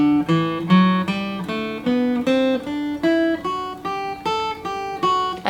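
A bowed string instrument plays a connected run of ascending notes, each one even and clear, moving smoothly from pitch to pitch without pauses.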